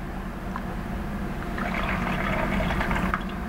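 Saline poured out of a petri dish during a lab dissection, a steady close-up splash and trickle of liquid running for a few seconds.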